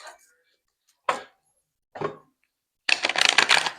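Cards riffle in a few short bursts, ending with a longer, louder shuffle; quiet pauses in between.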